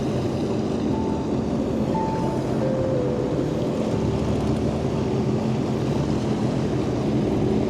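A Sea-Doo GTX 300 Limited personal watercraft runs across open water, its engine a loud, steady roar with constant water rush, holding a continuous drone throughout.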